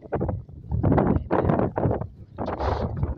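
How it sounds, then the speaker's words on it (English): Gusts of wind buffet the microphone in heavy, uneven bursts, loud and close, with brief lulls between them. "it's windy and nippy"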